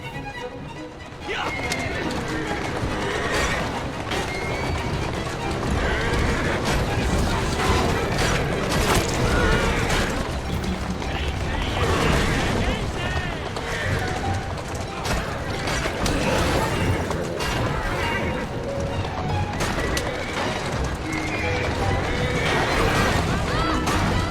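Hooves clatter and mechanical creaks and clunks run throughout in the video game Assassin's Creed Syndicate, with a horse whinnying at times and a voice talking over the busy noise.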